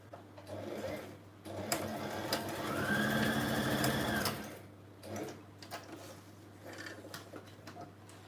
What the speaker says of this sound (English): I'm just going to do a couple of zigzags across that lace